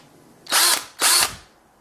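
Two loud, close bursts of a power drill boring into an iPhone 6, each high-pitched and about a quarter second long, separated by a short pause and heard alone.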